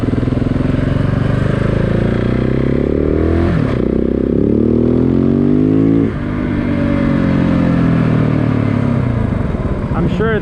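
A 2013 KTM 690 Enduro R single-cylinder motorcycle with tall 15/40 gearing is ridden, its engine droning loud and close as it climbs through revs with shifts and steady wind rush throughout.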